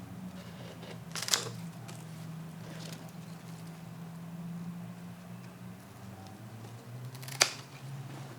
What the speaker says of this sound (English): Okay, so I'm going to cut here.